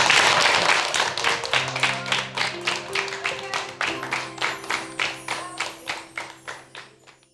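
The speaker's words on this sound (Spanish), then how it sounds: "¡Aplausos!" Clapping at a bicentenary commemoration of the Mocopulli battle in Chiloé, starting as a loud burst and settling into a slow, rhythmic, evenly spaced clap that gradually fades, with a steady low tone underneath.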